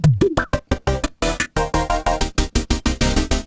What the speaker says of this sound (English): Chopped up synth bits.